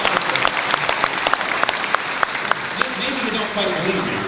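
Audience applause at a city government state-of-the-city address in Canton, a steady wash of clapping from a crowd that runs the full length, with some speech-like sound mixed in.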